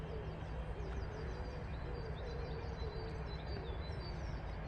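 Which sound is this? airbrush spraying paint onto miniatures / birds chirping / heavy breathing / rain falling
birds chirping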